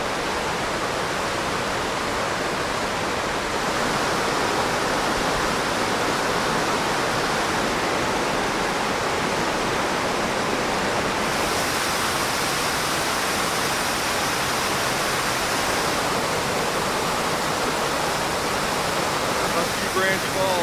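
Branch Falls in the Great Smoky Mountains, Tennessee, pouring heavily in spring, a steady broadband roar of rushing water filling the air evenly and loudly throughout with no pauses.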